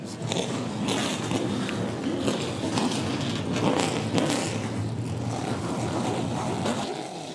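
Twenty-four Pro Late Model race cars start up and rev at Hickory Motor Speedway, a dense, continuous roar of engines under crowd noise.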